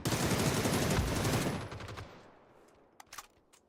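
Rapid video game gunfire in a firefight, a dense loud burst of automatic shots for about two seconds that fades, followed by a few scattered distant shots.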